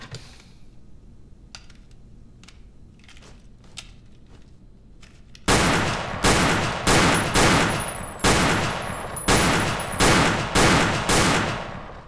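Pistol gunshots in a crime drama ring out as a rapid series of about ten loud, sharp cracks, preceded by fainter clicks and handling noises.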